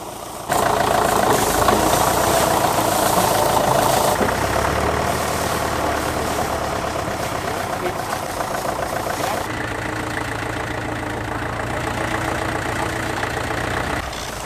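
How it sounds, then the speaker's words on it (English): An International BTD6 crawler's engine runs steadily while it pulls a trailer, a close, loud, knocking diesel chug that holds at a constant pace. "We're pulling the trailer with this International BTD6 crawler."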